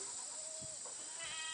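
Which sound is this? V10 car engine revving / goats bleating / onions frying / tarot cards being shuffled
goats bleating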